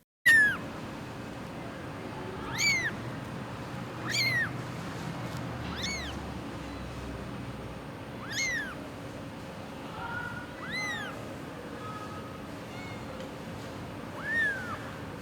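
Tiny newborn kitten crying over and over in thin, high, rising meows spaced a second or two apart, close and fairly clear above a low steady background.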